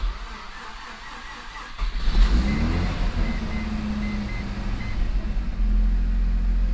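A stock 1995 Mazda RX7 FD with its 13B twin-turbo rotary engine cranks and fires, catching after a short start and settling into a loud, rumbling, slightly uneven idle close by.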